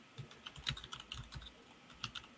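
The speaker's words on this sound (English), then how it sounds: "who's typing away?" Soft, quick keystrokes on a computer keyboard in an online call, an irregular patter of faint clicks throughout.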